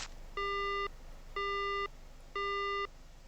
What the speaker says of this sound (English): The phone goes dead.